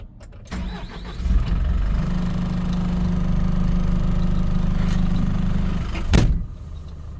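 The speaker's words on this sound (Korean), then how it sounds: "지금 시동을 한번 걸어 보겠습니다" A used 2014 2.5-ton fuel tanker truck engine cranks and catches, then settles into a steady, loud diesel idle close by, with a brief surge near the end.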